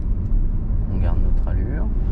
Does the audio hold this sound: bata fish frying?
no